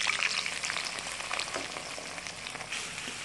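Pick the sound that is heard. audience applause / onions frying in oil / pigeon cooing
onions frying in oil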